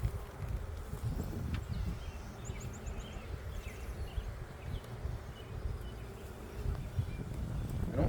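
Honey bees buzz steadily around an open hive during a frame-by-frame inspection, a dense continuous low drone that stays close and even throughout with no talking.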